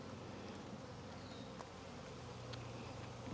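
A swarm of honeybees being combined into hives hums steadily nearby, a continuous low buzzing drone with occasional individual bees passing closer.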